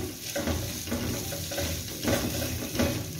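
Chicken frying with garlic paste in a pan, with a continuous close sizzle and a rhythmic series of stirring scrapes and soft knocks.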